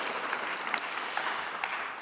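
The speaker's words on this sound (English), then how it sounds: "So, yes, well-deserved applause." Attendees at a stakeholder forum applaud, a soft, even wash of many hands clapping with a few sharper claps standing out, somewhat distant.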